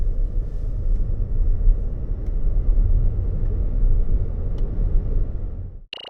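A 2023 Toyota RAV4 PHEV accelerating hard in pure electric mode: a loud, steady low rumble of road and tyre noise from inside the cabin, sustained without gear changes before a sudden cutoff.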